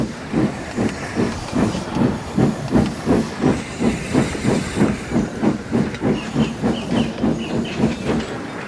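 A steam locomotive rhythmically chuffs air and steam through its funnel, a loud, steady, close hissing puff repeating about twice a second throughout, with no talk.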